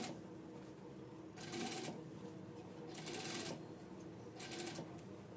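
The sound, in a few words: sewing machine stitching a half-inch blouse seam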